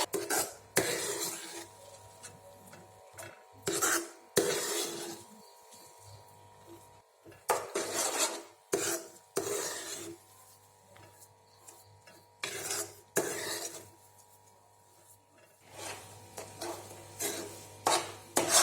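Semolina halwa with dry fruits roasting in a pan over a low gas flame, stirred in repeated scraping bursts of spoon against metal with short quiet gaps between strokes.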